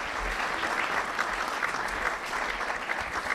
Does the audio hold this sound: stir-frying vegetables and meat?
no